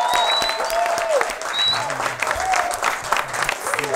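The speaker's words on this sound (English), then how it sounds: "Round of applause." A studio audience claps loudly for a few seconds as a talk-show guest is welcomed, dense applause with a few whoops, fading slightly near the end.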